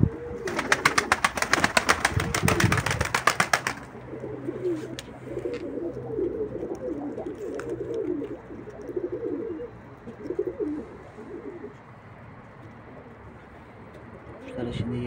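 Tumbler pigeons coo repeatedly in low, rolling phrases around a loft, following a loud burst of rustling noise at the start.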